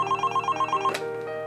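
A telephone rings with a rapid, regular electronic trill, then a short click as an answering machine picks up before its greeting.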